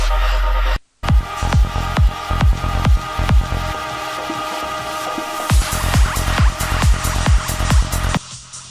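A progressive psytrance track plays back with a punchy, steady four-on-the-floor kick and rolling bass. A brief dropout near the start gives way to continuous driving beats and bright synth layers.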